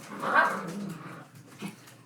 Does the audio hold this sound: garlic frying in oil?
no